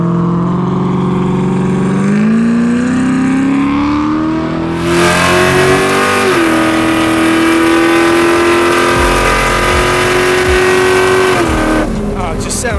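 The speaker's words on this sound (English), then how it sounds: "I hear a big loud V8 and I'm instantly happy about the day." A Chevy luxury pre runner truck's big V8 revs loud and close on a beach, its deep rumble climbing in pitch, holding a steady high drone, then dropping off near the end.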